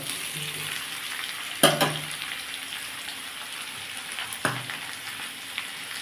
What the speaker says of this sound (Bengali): আলু পটল পুরোটা ভাজা হয়ে গেছে